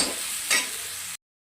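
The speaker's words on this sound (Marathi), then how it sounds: "असं भोपळा सगळं टाकून घ्यायचं आहे भाजीच्या ह्याच्यात कढईत आणि असं मिक्स करून घ्यायचं आहे" Bottle gourd pieces being stirred in a kadhai give a brief sizzling scrape, with one louder stroke midway through a steady frying hiss, close and alone before cutting to silence.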